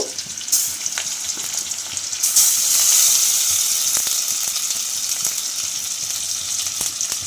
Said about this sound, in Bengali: পেঁয়াজটা হালকা ভাজা হয়ে গিয়েছে, এবারে রসুন বাটাটা দিয়ে দেব